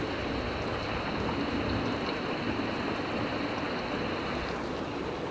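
Steady rain pours in the video game Distraint, a continuous dense hiss at an even level throughout with no voices.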